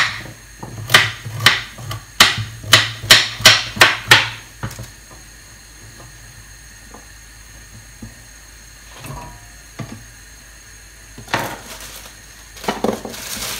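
Rapid, evenly spaced knife chops through carrots on a board in a quick burst, then a pause with faint clinks, followed by a few more chops.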